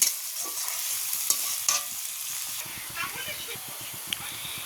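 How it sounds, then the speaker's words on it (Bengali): Chopped onions stirred and fried in a pan for a Bengali koi fish curry, giving a steady close sizzle under repeated rhythmic scrapes and clatters of the spoon against the pan. "পেঁয়াজগুলো দিয়ে দেব। এখন ভালো করে নাড়াচাড়া করে একটু ভেজে নেব।"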